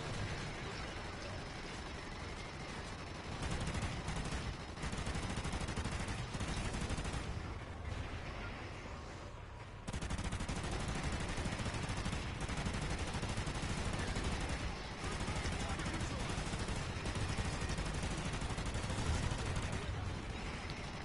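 Sustained automatic gunfire from a video game shooter, dense and loud throughout with brief lulls, under occasional player speech.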